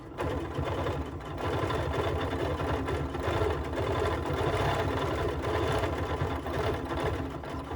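A sewing machine runs steadily at speed during free motion quilting with a size 90 quilting needle on a mug pincushion, a close, continuous rapid mechanical hum and needle chatter after a brief start-up.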